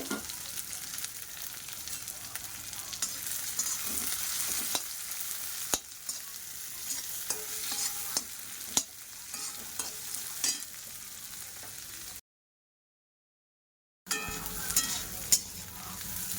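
Onions fry in a wok-style pan with a little oil, a steady sizzle with scraping stirs and clatters close by, broken by a short gap of silence before the frying resumes.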